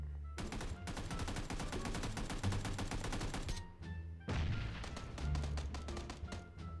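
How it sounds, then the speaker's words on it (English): Dense, rapid gunfire from the video game PUBG rattles on for several seconds, breaks briefly, then resumes in loud bursts. The shooting is steady and close, with no clear standalone grenade blast. "That was my grenade."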